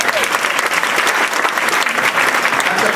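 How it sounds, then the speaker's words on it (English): An audience claps steadily at an aging celebration honoring seniors in Dutchess County, dense continuous applause filling the whole room from start to finish without a break. "why don't we give her a round of applause as well"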